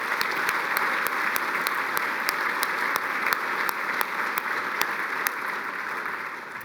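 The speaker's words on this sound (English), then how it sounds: "please join me in giving Vet Med a round of applause for this one" Sustained audience applause at a university chancellor's breakfast gathering, a dense, even roll of many hands clapping with a few sharper individual claps standing out, steady and moderately distant.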